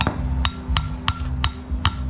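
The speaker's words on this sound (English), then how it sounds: "the hammer makes it easier" Sharp hammer blows on a steel crimper bead-rolling a metal intake pipe during a supercharger install on a K20-powered Acura RSX, six evenly spaced metallic strikes about every third of a second, close and ringing.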